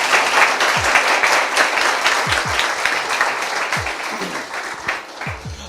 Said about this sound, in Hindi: आइए उसके लिए ताली बजाएंगे हम जोर से